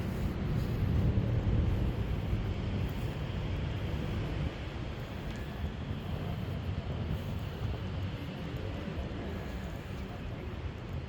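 Steady wind rumbles and buffets the microphone outdoors along the Pasig River esplanade, a continuous low roar with no clear pauses.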